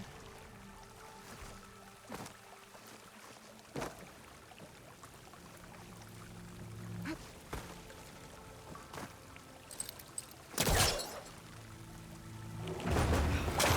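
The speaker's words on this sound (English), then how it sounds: "Water's coming from that vent." Water pouring from a vent in the game Horizon Forbidden West, a quiet continuous splashing trickle with scattered clicks and a louder burst of splashing near the end, no voices.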